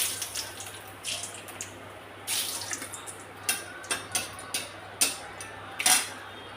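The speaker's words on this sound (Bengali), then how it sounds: "কালো জিরে ফোড়ন দিলাম, একটু শুকনো লঙ্কা দিয়ে দেবো ফোড়ন" Nigella seeds and dried red chillies temper in hot oil with a soft sizzle, overlaid by irregular sharp clinks and taps of utensils against the pan, close and fairly quiet, with no talking.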